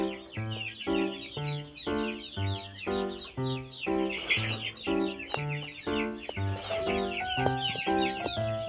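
Quails in a new backyard enclosure give repeated short, rhythmic clucking calls close by, layered and overlapping from several birds with no talking.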